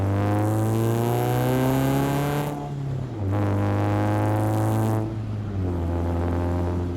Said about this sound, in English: I'm just trying to get the exhaust warmed up a bit so we can have, you know, nice burbles.